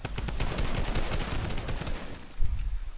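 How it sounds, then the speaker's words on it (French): Rapid video-game gunshots are fired into the air in a loud, continuous burst of cracking reports with barely a pause, and a sharper cluster comes near the end. "Je les tire en l'air pour leur faire peur"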